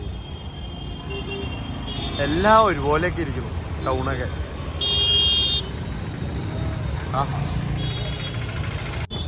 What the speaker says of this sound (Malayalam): ഹോണടി മാത്രമേ ഉള്ളൂ ഹോണടി മാത്രം